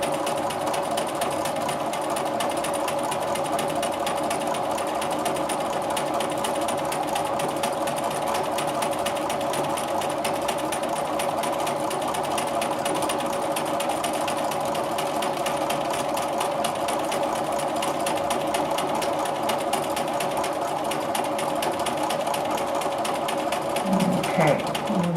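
A sewing machine stitching a quilt with variegated thread in the top and bobbin: a rapid, steady mechanical whirring hum running continuously and close, with a brief soft noise near the end.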